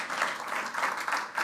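Applause from a church congregation fills the space, a dense, steady wash of many hands clapping at moderate volume with slight swells, no talk over it.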